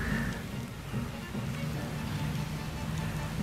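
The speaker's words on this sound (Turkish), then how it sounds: "yağmur da yağıyor kardeş" Steady rain falls outdoors near a large dragonfly, a continuous broadband hiss with soft patter, fairly close and even throughout, with a low hum underneath.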